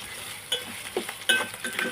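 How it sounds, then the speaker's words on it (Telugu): Medium drumstick pieces fry in a pan for a tomato curry, a soft steady sizzle broken by a few sharp clinks and scrapes of stirring, close and moderately quiet. "ఇది కూడా ఒక నిమిషం ఫ్రై చేద్దామన్నమాట."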